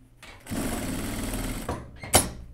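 A sewing machine runs in a short, steady burst while stitching the neckline finish on a boiled wool coat, then stops; a sharp click follows near the end, fairly quiet overall.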